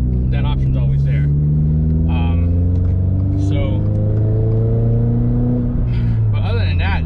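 A Toyota GR86 with a Remark single-wall axle-back exhaust revs, the engine note climbing and sliding in pitch with a steady loud drone, close, while someone talks over it.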